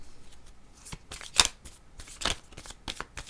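Playing cards shuffled and drawn by hand, crisp riffling bursts and quick flicking snaps in an irregular rhythm, close and clear with no talking.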